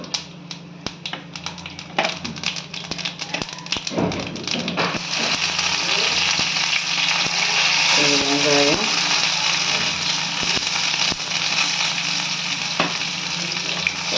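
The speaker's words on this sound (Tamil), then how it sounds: "எண்ணெய் ஊற்றி கொஞ்சம் கடுகு போட்டுக்கோங்க கொஞ்சம் சோம்பு" Mustard seeds and fennel sizzle in hot oil for an egg chukka gravy, a steady broadband frying hiss running throughout with small crackles and a few utensil taps, loud and close.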